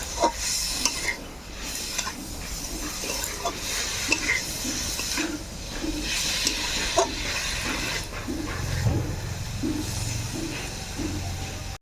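Potato and eggplant stir-fried in a pan with a steady sizzling hiss and repeated scraping stirs in a regular rhythm, close and moderately loud, with no voices.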